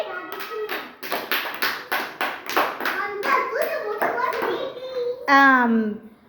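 Children in a classroom clap together in a quick, steady run of loud, rhythmic bursts, with young voices chattering and calling out over and between the claps.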